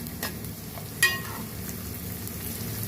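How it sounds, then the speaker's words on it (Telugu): Onion pieces fry in oil in a pan for a fish curry, a steady faint sizzle running throughout with one brief louder clink or stir near the middle; nobody speaks. "ఉల్లిపాయ ముక్కలు ఇంకా వేగాలి"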